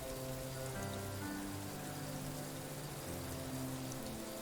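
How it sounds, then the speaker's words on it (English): Rain falls in the meditation game PLAYNE, a soft, steady patter that runs continuously beneath gentle sustained musical tones, even and fairly quiet throughout. "if you can hear it or not, the sound of rain."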